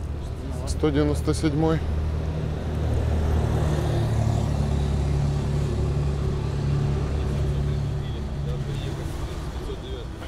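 A city bus passes along a street at night, its low engine rumble swelling and lingering steadily for several seconds, with someone speaking over it at the start.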